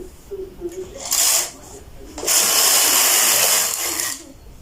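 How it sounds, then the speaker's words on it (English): A domestic knitting machine carriage swept across to knit one row joining the rib of shorts, two bursts of loud hissing, rattling travel, a short pass then a longer one, with quiet moments between. "Now we are going to knit 1 row to join the rib."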